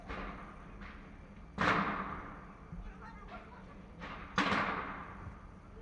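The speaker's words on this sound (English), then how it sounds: "That is definitely gunshots going on." Two sharp distant gunshots crack outdoors in New York, each followed by a fading echo, with a few fainter pops between them over background noise.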